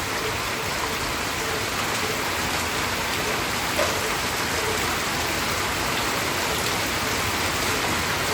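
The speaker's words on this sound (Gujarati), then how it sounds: "પાછળ વરસાદ પડે લાઈવ" Steady rain pours over an open village farm field in Mehsana district, north Gujarat, a dense continuous hiss of drops on the ground with no break, close and even throughout.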